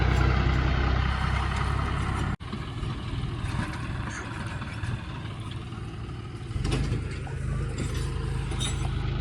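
A tractor engine rumbles steadily nearby, a low continuous drone with a brief dropout and a slight rise in loudness later, without speech over it.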